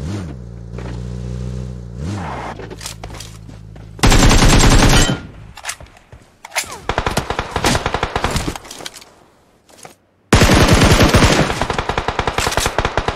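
Gunfire in PUBG Mobile, loud rapid bursts of automatic fire that come in and out between stretches of vehicle engine drone and other game noise.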